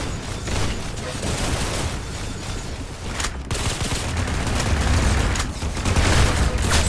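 Rapid gunfire in the Roblox shooter Arsenal, bursts of game weapon shots and booms rattling on continuously at loud volume, with a voice briefly talking over the action.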